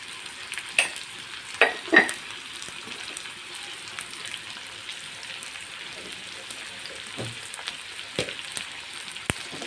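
Sliced onions, salted early, fry and get stirred in a pan for a dried-fish bharta, a continuous sizzle broken by several sharp scraping and clattering strokes of the spoon with no voices.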